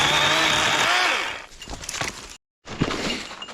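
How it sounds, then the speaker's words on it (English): A chainsaw clears and widens a trail through snowy winter woods. The engine whines loudly at first, then gives way to cracking and snapping of cut brush, a brief cutout, and more rough rattling. "So now I'm just going to widen it out with the chainsaw, make it a little easier to walk in and out of here."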